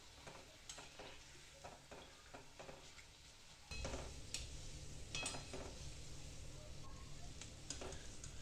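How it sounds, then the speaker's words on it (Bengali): Thin shreds of potato for jhuri bubble and sizzle steadily in hot frying oil, with soft stirring scrapes; the frying grows louder and denser about halfway through. "এবার এগুলোকে ভালো করে ভাজতে হবে, সুন্দর সোনালি রং করে ভেজে নিতে হবে।"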